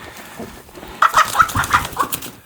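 Several chickens cluck and squawk in agitated bursts while being picked up, close and fairly loud, with rustling movement around them.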